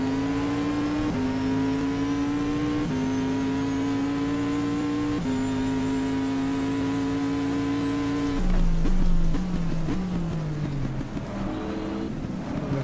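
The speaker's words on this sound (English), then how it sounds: "Possible 12 seconds to catch Tom Christensen with the BMW." Racing car engines roar in the GTR2 racing game, a loud continuous drone that climbs through gears, dropping pitch at each shift, then sweeps down sharply under braking.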